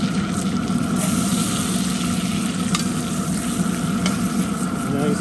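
Steak sizzling loudly in a cast iron pan on a Pit Boss, a continuous close crackle with a couple of sharp clicks as the meat is flipped.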